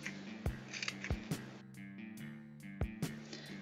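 Scissors trim a yarn pom-pom in a series of sharp, close snips at an irregular pace, about six to eight cuts in all, quiet and with no talking.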